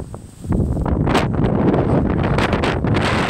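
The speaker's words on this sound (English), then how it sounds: "it's really windy today" Strong, steady wind buffets the microphone with a loud low rumble and gusty rustling throughout, with no voices.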